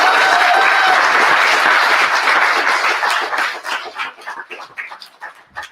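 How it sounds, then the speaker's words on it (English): Convention audience applauding at a 2024 political convention, a loud crowd of clapping that starts dense and full, then thins into scattered individual claps and fades out. "Let's give him a round of applause."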